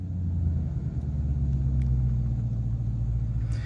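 A 2024 Ford F-150 Raptor R engine idles with a deep, steady rumble close by just after startup, with a few faint clicks above it.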